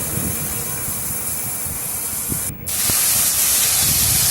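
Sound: slit green chillies frying in a pan

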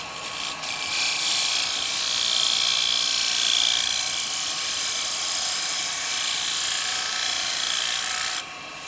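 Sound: woodturning lathe, tool cutting wood

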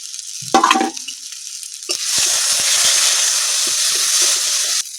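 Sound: frying spice masala with coriander, cumin and chili powder

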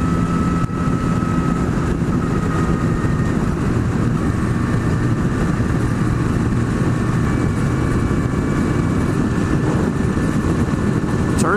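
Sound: Kawasaki ZX-10R motorcycle riding

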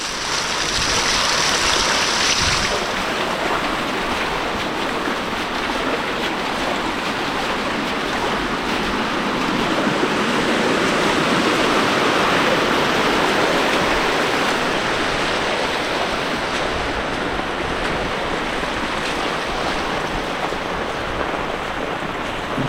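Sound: small waterfall in heavy rain

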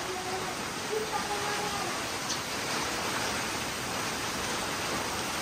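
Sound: heavy rain falling

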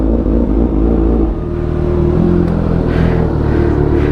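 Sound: Kawasaki Z900 motorcycle engine revving

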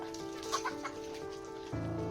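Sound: chickens clucking

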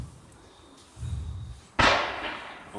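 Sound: 20 mm roman candle fireworks, 10 shots, coloured

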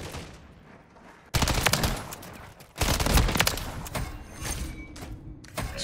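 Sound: TAQ Eradicator gunfire in video game Modern Warfare 3

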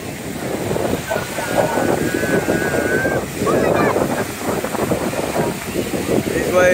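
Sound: ocean waves breaking on the Gulf Coast beach in Florida

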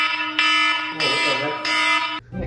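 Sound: alarm sound played to wake someone

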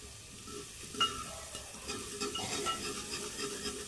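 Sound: tempering frying in pan

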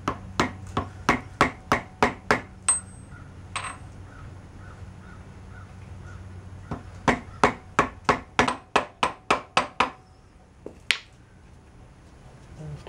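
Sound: rubber mallet tapping socket to seat wheel bearing

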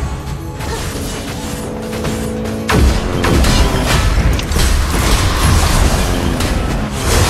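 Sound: turret being destroyed in the video game Honor of Kings

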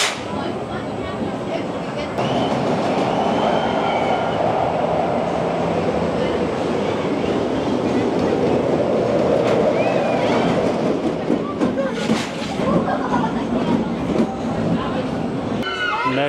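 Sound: Tivoli family roller coaster running at amusement park

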